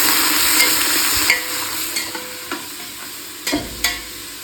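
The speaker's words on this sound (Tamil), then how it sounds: "புதினா கொத்தமல்லி சேர்த்துட்டு நல்லா கிண்டி விட்டுறோம்" Mint and coriander frying in a pan for mutton biryani give off a steady, close sizzle, broken by several sharp scrapes and knocks as a spoon stirs them.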